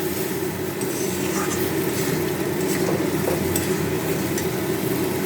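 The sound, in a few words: duck eggs being stir-fried in spices for curry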